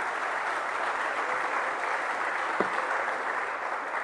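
Steady applause from a conference audience at a hacker event after a successful live demo, dense and even throughout with no talk over it.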